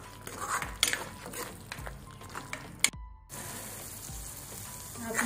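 Onion paste fries slowly over low heat, a soft continuous sizzle broken by spoon scrapes and clinks against the pan, with a brief silent gap near the middle.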